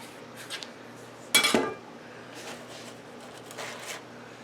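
Metal loaf pans handled on a kitchen counter during bread making, one clear clattering clank in the middle between softer light rustles and bumps, close and without talking.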